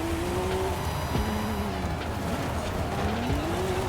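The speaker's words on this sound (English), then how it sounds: "It's me just driving a little too fast around corners." Tires squeal and an engine strains as a 1997 Toyota Soarer 2.5 GT-T is pushed too fast through corners on dirt in Forza Horizon 5, with a wavering engine note and scrubbing skid noise running steadily throughout.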